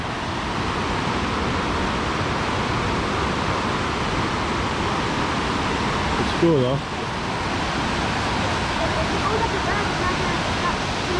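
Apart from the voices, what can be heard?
roaring river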